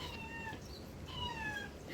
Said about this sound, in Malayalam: അതിൻ്റെ കൂടെ പൂച്ചയുണ്ട് കേട്ടോ